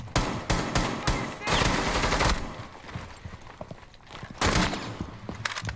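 Rapid automatic gunfire from Rainbow Six Siege, loud bursts of close shots in quick succession with brief pauses between volleys, plus faint footsteps in the gaps.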